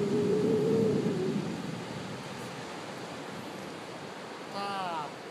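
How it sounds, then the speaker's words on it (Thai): Surf washing onto a fine-sand beach at the Bang Boet sand dunes, a steady, broad wash of waves that is louder at first and then settles to a softer, constant roar, with a brief burst of bird-like chirps near the end. "คลื่นทะเลนะครับ"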